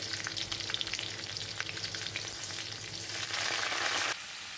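Curry leaves and long-sliced onion frying in hot mustard-seed oil, a steady close sizzle with faint stirring that swells louder and brighter for about a second near the end, then eases back.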